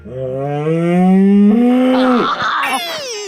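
A buffalo lets out one long, loud, close moo that holds steady and then breaks into a rougher, higher bellow near the end, with no talking.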